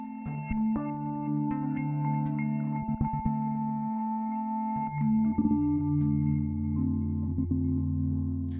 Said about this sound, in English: Those manatee sounds you heard are courtesy of the U.S.